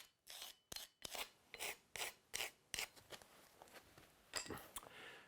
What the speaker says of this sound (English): I can draw around the bricks using my pencil where the mortar's going to be laid.